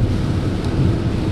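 Steady rain with low rumbling thunder heard from inside a car on a drive through the flat Midwest toward Columbus, Ohio, a continuous dense wash with no talking.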